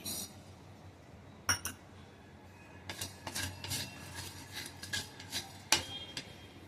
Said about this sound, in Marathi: सगळ्यात अगोदर धणे टाकते